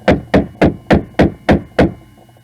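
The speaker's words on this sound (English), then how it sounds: "Banging like that, or knocking like that, at about 2:30 in the morning." Seven loud, evenly spaced bangs from upstairs neighbours at around 2:30 at night in an apartment tower, each a heavy knock with a short decay, followed by quiet.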